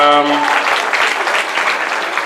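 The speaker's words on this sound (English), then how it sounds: "Please give him another round of applause, please" Audience applauding at an intercultural conference in the Gambia, loud close clapping that starts as a speaker's voice ends and continues steadily.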